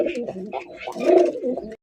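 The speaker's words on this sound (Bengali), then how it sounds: "এটা হচ্ছে দেশি বোম্বাই কবুতর।" A local Bombay pigeon gives a short, close, throaty coo that swells toward the end, heard clearly and loudly.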